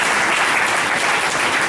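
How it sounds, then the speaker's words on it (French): A church congregation applauding, a dense, steady wash of many hands clapping at full volume throughout, with no break. "Applaudissez pour le Saint-Esprit."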